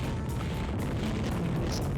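An incoming missile explodes in the FireFight video game, giving a dense, continuous rumbling boom that stays loud and steady for its brief length.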